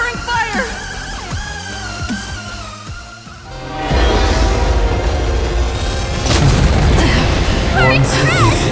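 Covering fire explosions in the video game Honkai Star Rail: after a stretch of voices and music, a loud sustained roar of booming blasts sets in and continues to the end, mixed with voices and score.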